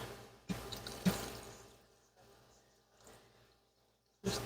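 Water rinsing sprouting seeds in a jar, a few short splashes and trickles separated by quiet gaps, with a louder gush near the end.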